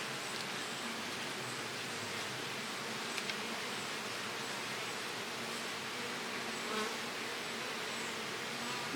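Honey bees at a Flow Hive with a laying worker and drone brood, buzzing as a dense, continuous swarm hum close by, steady and loud with no talking.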